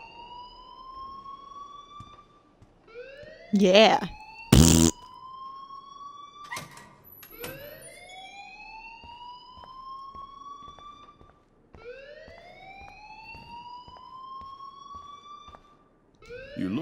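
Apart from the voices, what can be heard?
alarm ringing at school in the video game Life is Strange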